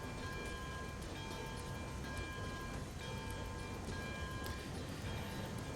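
A 21-car train of nearly 600,000 pounds in the video game Railroads Online rolls along with a constant, heavy rumble and steady mechanical noise, a few faint clanks over it and no speech.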